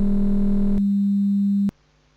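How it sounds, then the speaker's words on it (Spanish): Synthetic 200 Hz sine tone modulated by a 20 Hz tone, a steady loud hum that first sounds alongside a buzzier layer, continues alone for about a second, then stops abruptly. "cómo la de 20 Hz está modulando o interfiriendo con la de 200 Hz"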